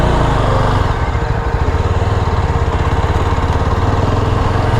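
A Yezdi Scrambler motorcycle engine rumbles loud and close while riding off-road on a bad road, a steady throbbing drone with a slight uneven pulse that carries on without pause.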